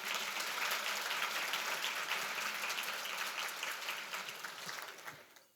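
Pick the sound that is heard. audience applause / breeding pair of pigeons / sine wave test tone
audience applause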